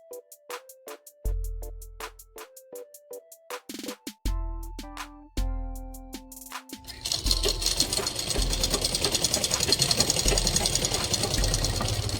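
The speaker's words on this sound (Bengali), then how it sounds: "চারিদিকে এরকমভাবে ফোল্ড করে সেলাইটা করে নেব" A sewing machine stitches folded fabric along a churidar neckline. A few short, separate tones come first, then a loud, rapid, steady rattle of stitching runs through the final five seconds.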